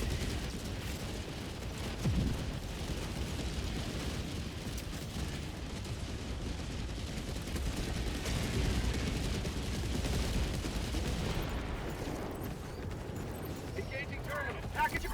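In the video game Helldivers 2, a dense, continuous roar of explosions and gunfire rumbles heavily through a gas strike, with booming blasts layered under rattling shots and a voice talking over the din.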